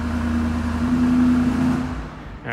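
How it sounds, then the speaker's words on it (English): A 2021 BMW X7 M50i's engine hums steadily at idle, then winds down and falls quiet as it is switched off, followed by a faint click near the end. "I can switch off the engine with the same lock button"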